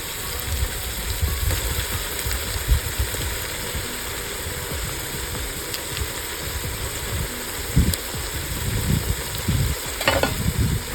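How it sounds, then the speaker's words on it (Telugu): Ginger garlic paste frying and stirred in a pan for a country chicken fry, a steady low sizzle with scraping stirs and a few louder knocks of the spoon against the pan. "ఇప్పుడైతే అల్లం వెల్లుల్లి పేస్ట్ వేసుకునేస్తాము"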